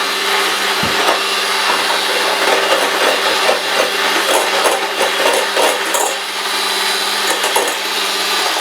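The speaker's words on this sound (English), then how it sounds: "So I'm now going to finish whisking this in." An electric whisk whirs steadily at close range as it beats cream with elderflower cordial, a loud continuous motor drone with faint rattling against the bowl.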